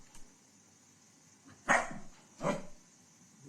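A dog barks twice, about a second apart, each bark loud and close against a quiet indoor background with no talking.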